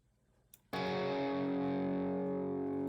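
A single electric guitar chord rings out alone after a brief click, loud and distorted, sustaining evenly to the end.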